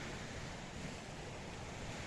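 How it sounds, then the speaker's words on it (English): Waves washing onto a small beach at Kefalos, Paphos, Cyprus, a steady broadband wash of surf with some wind noise, continuous and fairly even in level, with no voices. "a fabulous little beach area as well"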